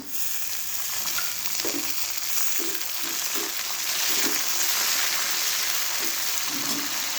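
Garlic paste and coriander leaves sizzle steadily in a pan with onion for a potato chutney, a continuous close frying hiss broken by several soft scrapes of stirring.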